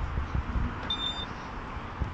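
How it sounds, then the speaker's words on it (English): A single short electronic beep from a Renault Kadjar confirming it is locked sounds once, faint against a quiet outdoor background. "did you hear that beep? Your mirrors are folded in, it means that the car is locked"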